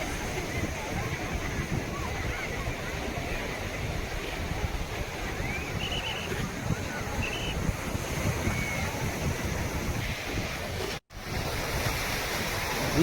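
Surf rolling onto the sand at Colva beach in Goa, a dense continuous roar of breaking waves with wind buffeting the microphone and a brief dropout near the end.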